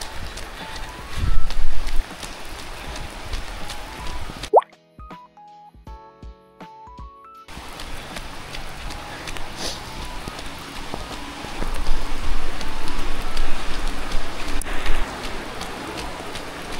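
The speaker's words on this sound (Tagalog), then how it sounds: "Sarap maligo sa ulan." Rain falls steadily on outdoor surfaces at a housing development water supply area, a dense continuous patter broken once by a short run of phone keypad tones before the downpour resumes.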